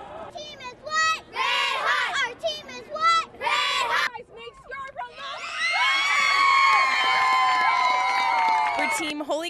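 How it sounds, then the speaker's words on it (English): Shouts and cheers rise from a large, excited crowd at a Twister world record attempt at the Rogers Centre. Bursts of yelling come first, then a long sustained roar of whooping voices. "Still, the energy was high and the crowd was out of control."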